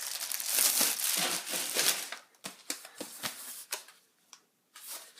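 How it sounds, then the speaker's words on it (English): Plastic packaging crinkles and tears as a Yeti microphone is unwrapped, a steady rustle giving way to sharper separate crackles and rips, close and alone with no talk. "So let's just unwrap this and we'll show you the Yeti."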